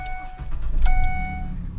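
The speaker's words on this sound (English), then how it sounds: "Start the truck up" A Ford Explorer is started, a brief crank and catch settling into a steady low idle, with a chime sounding through the cabin.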